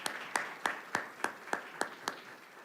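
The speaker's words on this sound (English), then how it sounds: "Can we give our Board of Education a round of applause?" Faint, sparse clapping at a school district Board of Education meeting: about eight evenly spaced sharp claps in a steady rhythm, with no talking over them.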